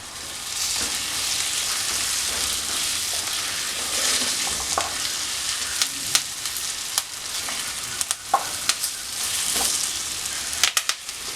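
Prawn roast with garam masala and curry leaves sizzles steadily in a pan while a spoon stirs it, with occasional sharp scrapes and clicks of the utensil against the metal over a continuous frying hiss.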